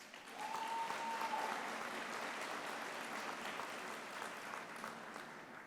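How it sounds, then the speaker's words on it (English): Graduates at a university commencement applauding their supporters, a broad, even wash of clapping from a large crowd, fairly distant and soft, holding steady throughout with a brief tonal whistle early on. "Go ahead, give them applause."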